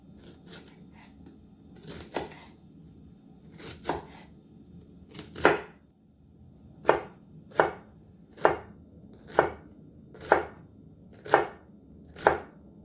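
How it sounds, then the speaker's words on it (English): A knife finely chopping a shallot on a cutting board, crisp close taps coming in a few loose bursts and then a steady run of about ten evenly spaced strokes, with no talking. "I'm going to go ahead and chop my shallot. I'm going to do it rather fine."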